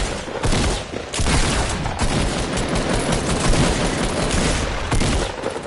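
Rapid, sustained gunfire and bursts of automatic weapon fire fill the whole stretch from a PS4 shooter game, loud and dense with no talk over it.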